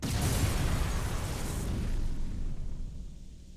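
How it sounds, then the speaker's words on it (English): Power bomb detonation in Metroid: Other M, a loud sustained broadband roar that fills the whole clip before slowly thinning out and fading toward the end. "We gotta use a power bomb"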